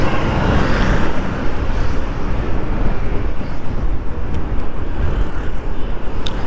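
Honda Activa EV RoadSync electric scooter riding along a road, heavy rushing wind buffeting the microphone over a constant roar of road and tire noise, with no talk.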